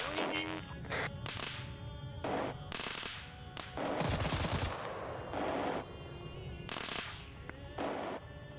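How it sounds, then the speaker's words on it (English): Bursts of automatic rifle fire trade back and forth in a military shooter game, the sharp volleys arriving in repeated clusters at mixed distances. A steady background hum runs underneath. "they're firing back and forth"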